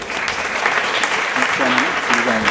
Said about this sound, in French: Oui, vous pouvez vous applaudir.